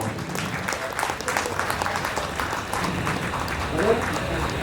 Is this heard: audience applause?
yes